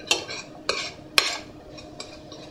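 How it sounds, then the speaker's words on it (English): Spices fry with onion in a pan for butter chicken, a faint sizzle under a few sharp stirring clinks of a utensil against the pan, close and without talk. "We're just going to fry these spices off with the onion for approximately 1 minute"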